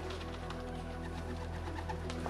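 Pigeons coo steadily on a Beijing rooftop, soft low repeated calls under a constant loud hum and faint chirps, with no talking.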